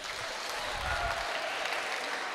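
Audience applause at a church chaplaincy gathering in a hall, a steady wash of clapping that carries through the whole short stretch, fairly close and even in loudness, with no voices over it.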